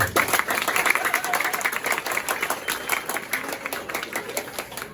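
An audience at a Haitian public gathering claps together for about five seconds, with dense, steady applause at moderate distance and fairly low volume.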